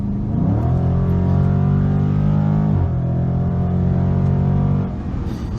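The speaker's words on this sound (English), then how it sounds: "Past this intersection. Wide open throttle." A 2020 Dodge Charger Scat Pack Widebody engine under full throttle, its loud droning pitch climbing steadily, dropping briefly at a gear shift, then rising again before easing off.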